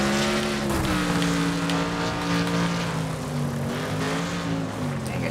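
Race car engines roar continuously in the demolition-racing video game Wreckfest, a loud, steady drone whose pitch rises and falls slightly as the cars jostle through a corner.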